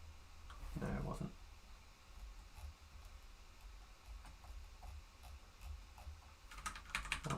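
Computer keyboard keys clatter in scattered clicks and short bursts during a live coding session, close but fairly quiet, with a quick flurry of taps near the end and low room noise underneath.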